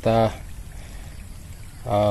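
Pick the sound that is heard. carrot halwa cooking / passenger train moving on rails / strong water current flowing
strong water current flowing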